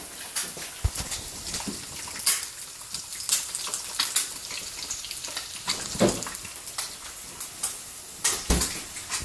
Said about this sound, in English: You hear the eggs sizzling, popping and going.